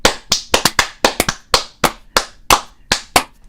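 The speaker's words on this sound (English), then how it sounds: "Let's clap it in." Two people clap their hands together in a quick burst of about fifteen sharp, close claps, with brief pauses between short runs and no talking.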